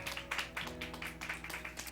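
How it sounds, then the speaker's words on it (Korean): A Korean church congregation at a Sunday service claps in a brisk, regular rhythm. The claps are faint and distant over a low, sustained tonal backing. "우리 박수 해주세요"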